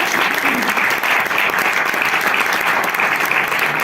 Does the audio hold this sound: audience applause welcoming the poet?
yes